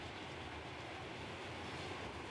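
A short burst of in-game rail traffic from Transport Fever 2, with a continuous rolling train rumble and faint clickety-clack of wheels over track, steady and moderately loud.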